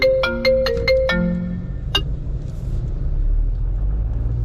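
A phone ringtone for an incoming call plays through the cabin of a 2025 Renault Kardian: a quick run of bright, repeated electronic tones in the first couple of seconds, then it fades into a low, steady road rumble from inside the car.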